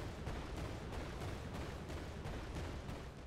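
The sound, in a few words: explosion sound effects in an Unreal Engine 5 game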